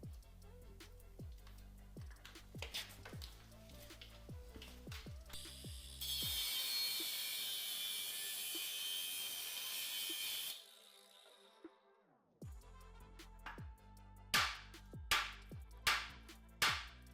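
A steel spring perch being cut off a truck axle housing, a loud steady broadband grinding roar for several seconds, framed by sharp rhythmic ratcheting clicks before and after.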